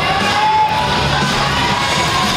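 Spectators at a high school hockey playoff game between BHS and Framingham roar in the arena, a loud, dense, continuous wash of cheering and yelling that fills the space.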